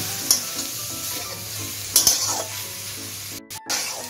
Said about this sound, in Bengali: দিয়ে এখন ভালো করে মিশিয়ে নিচ্ছি।